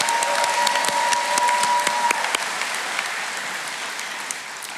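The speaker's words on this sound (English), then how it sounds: "Please give these accomplished shipbuilders another round of applause for their extraordinary accomplishments" Applause fills the hall at the Newport News Shipbuilding Apprentice School graduation ceremony as a large crowd claps loudly and steadily, the sound easing slowly over a few seconds.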